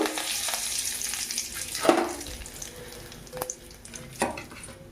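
Chana dal, mustard seeds and curry leaves hit hot oil. A close, crackling sizzle follows with a few sharp pops and spatters, then settles into steady frying.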